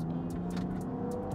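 Land Rover Defender 110 with a 3.0-litre turbocharged six-cylinder mild-hybrid engine pulling hard, a steady low engine drone heard from inside the cabin, brief and continuous with no speech over it.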